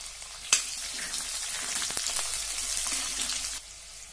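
Coconut slices, crushed ginger, garlic and green chilli sizzling in hot oil for a sorrel leaf curry, a loud, dense crackle with a sharp burst as ingredients hit the pan, then steady spitting.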